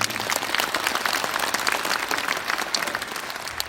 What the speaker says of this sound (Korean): 김대형 공동조직위원장님께 여러분 감사의 박수 부탁드리겠습니다